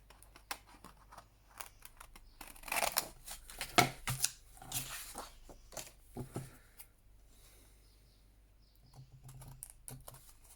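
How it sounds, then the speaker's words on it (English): Scissors trim around a paper envelope tag with quick, close snipping and rustling that runs in bursts and then tapers off. "So just trimming round our envelope tag"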